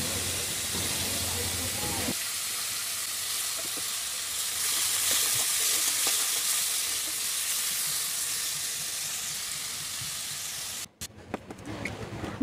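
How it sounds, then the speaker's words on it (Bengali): Broccoli sizzling in hot oil left over from frying fish, a dense steady crackle and hiss close up, with a brief voice at the start and a few clatters toward the end. "ওই তেলের মধ্যে দিয়ে দিয়েছি ব্রকলিটা ভেজে নিচ্ছি"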